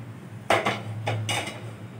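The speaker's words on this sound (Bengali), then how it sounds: "গ্যাসে কড়াই বসিয়ে দিতে হবে।" A metal kadai (wok) is set down on a gas stove, giving two or three close, sharp metallic clanks over a steady low hum, with no talking.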